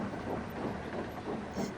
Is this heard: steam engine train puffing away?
yes